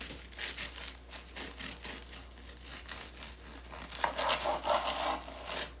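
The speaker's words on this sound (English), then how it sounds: "let's cut our strombolis and see how they turned out" A knife saws through crusty baked plant-based chicken parmesan strombolis with continuous close scraping and crackling strokes, growing a little louder near the end over a low steady hum.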